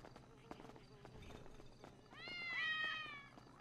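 A voice imitates a cat's meow in a GTA 5 roleplay game: one drawn-out, rising-then-falling meow near the end, loud and close, after quieter background game noise and rustling.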